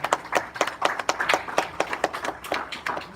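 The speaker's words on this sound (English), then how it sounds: "So let's give Chris a round of applause" Workshop audience clapping in a room, a loose run of distinct hand claps at close range with uneven rhythm, fairly thin rather than a dense ovation.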